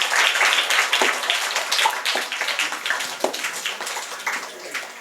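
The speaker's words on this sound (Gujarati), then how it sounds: "ઋતુમાને તાળી પાડો." A school audience at a Braille festival for blind students claps in a dense burst of applause that starts loud and slowly fades over several seconds.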